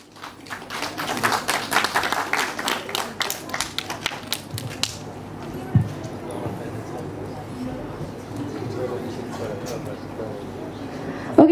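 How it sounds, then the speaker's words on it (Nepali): Applause at a national music and film award ceremony in Nepal, with dense rapid clapping from an audience filling the first half and then fading into crowd murmur and voices. "कृपया जोडदार ताली"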